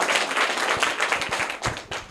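An audience claps for a child who has just answered a quiz question correctly at an educational quiz event, a dense, busy patter of hands at close range with a few sharper individual claps near the end.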